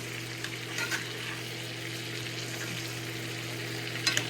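Food basting in a properly seasoned skillet with grapeseed oil, giving a steady, moderate sizzle with a low background hum and a few soft clinks from the pan.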